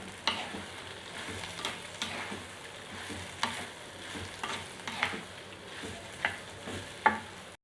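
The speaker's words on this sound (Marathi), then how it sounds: "आता चवीनुसार मीठ ॲड करते परत एकदा फ्लीवर चांगलं परतून घेते" Okra sautés in a pan with salt, a steady low sizzle punctuated by rhythmic spatula scrapes and taps while being stirred, fairly close and moderate in level.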